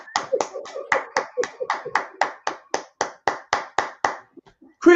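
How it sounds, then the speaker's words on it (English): An audience claps in time with a song, about sixteen sharp, evenly spaced claps in a steady rhythm, loud and close, ending with a brief voice. "Everybody clap up."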